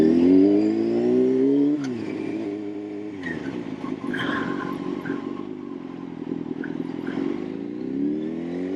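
A motorcycle engine braking moderately into a turn while the rider gives gas: the revs fall with a downward sweep, then hold and climb again, close and clear.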